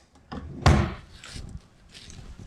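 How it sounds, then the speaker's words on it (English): During home brewing of alcoholic ginger beer, something is knocked with a single loud, hollow thud, surrounded by softer bumps and clatter nearby. "sorry for knocking"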